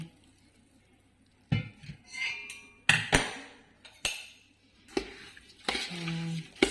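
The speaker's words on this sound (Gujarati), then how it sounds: "હવે મિક્સ કરી લેવાનું" Jaggery mango pickle is stirred and mixed in a metal pot, giving bursts of scraping, clattering and metallic clinks in irregular spurts with short pauses between.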